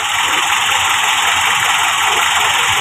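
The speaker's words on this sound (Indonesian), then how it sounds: "ada kenaikan RPM, lebih halus, suara mesin lebih halus, lebih stabil getarannya." An engine fitted with an OCT reactor combined with HCS runs at a steady idle, a continuous loud hum and whir with even vibration and no clear pauses.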